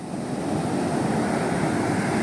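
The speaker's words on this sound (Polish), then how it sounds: "Patrzcie, idzie fala, ta fala się teraz łamie, idzie, idzie do przodu, rozbija się o brzeg" Ocean surf on a beach in Benin, a wave breaking and rushing up the shore as a steady, loud wash of churning water with wind noise, continuous throughout with no voices.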